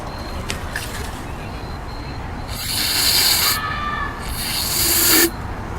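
Carburetor cleaner is sprayed into a lawn mower carburetor in two close, hissing aerosol bursts of about a second each, over low background rumble.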